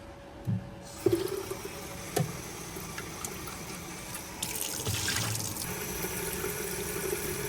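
Water from a spring runs and splashes nearby in a steady flow, with a few knocks and clatters of containers, and no talking.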